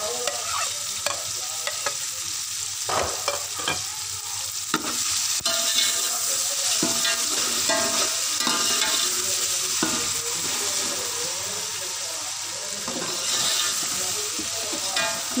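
Tomatoes frying with two tablespoons of ginger, garlic and green chilli paste in a pot while being stirred, a constant close sizzle broken by repeated spoon scrapes and clinks, with no talking.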